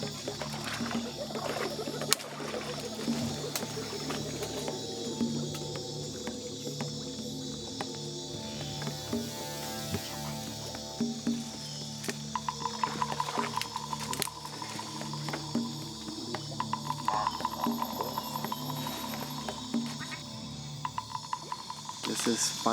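At night in the jungle, a Phyllomedusa bicolor frog, a poison frog known to the Matses, calls amid dense chirping insects, its tonal notes repeating moderately loud over the constant buzz.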